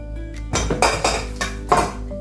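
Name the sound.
aloe vera put into a cooking pot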